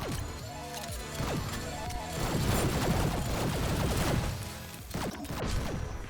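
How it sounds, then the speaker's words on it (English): Burst carbine assault rifle in the shooter game GTTOD, firing repeated rapid bursts of gunshots with sharp transient cracks, loud and continuous over a busy backdrop of game effects and impacts. "Burst carbine. I would definitely say this is probably one of the weaker assault rifles in the game right now."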